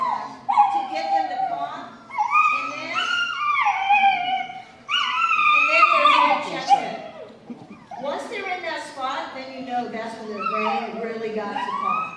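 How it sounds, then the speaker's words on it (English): A dog moans and whimpers while being massaged during a training session, giving drawn-out whining cries and small yips that rise and fall almost continuously, close and fairly loud, with a person's voice mixed in. "This dog is moaning"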